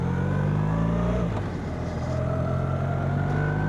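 A BMW R1300R motorcycle accelerates with a loud, steady engine drone heard from the rider's position, its pitch rising through the gears, dipping briefly at a shift, then climbing again over wind rush.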